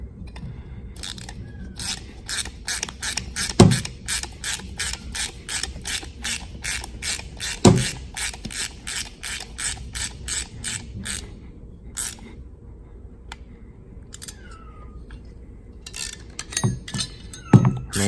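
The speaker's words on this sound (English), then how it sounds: "So we're gonna tighten it and put it back on there." Ratchet wrench fitted with a bolt extractor socket tightening a rounded-off bolt back on, a long run of rapid, evenly spaced ratchet clicks close by with a few louder metallic knocks and pauses, no talk.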